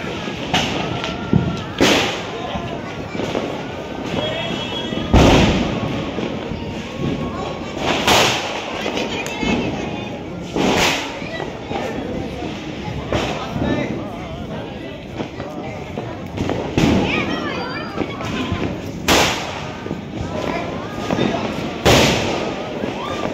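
Diwali fireworks and firecrackers burst repeatedly as loud, sharp bangs at irregular intervals of a few seconds, some near and some farther off, over a constant background of crowd noise and voices.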